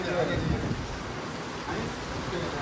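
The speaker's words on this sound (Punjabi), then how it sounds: "ਬਾਰਿਸ਼ ਹੋ ਰਹੀ ਆ" Steady rain hisses down outdoors, a continuous close wash of falling water that fills the whole short stretch.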